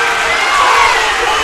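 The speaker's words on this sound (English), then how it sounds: "And the Blue Jay crowd is furious." A crowd at a high school boys basketball game shouts and roars in protest after a foul, a loud, dense, sustained wall of voices filling the gym throughout.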